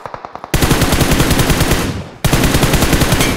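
Rapid automatic gunfire rattles from the PUBG Mobile battle royale game, with a few spaced shots leading into a loud, sustained burst, a brief dip, then another continuous volley.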